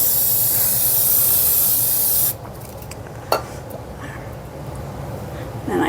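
A spray can hissing in a steady close burst for about two seconds, followed by quieter room noise and a faint tap.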